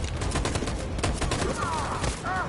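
Rapid machine gun fire in the game Detroit, a continuous stream of close, loud bursts throughout, with brief shouted voices and whistling tones near the end.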